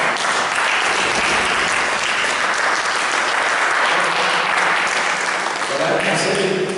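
A church congregation applauds in a sustained, dense wave of clapping that carries on steadily throughout, with faint voices mixed into the crowd.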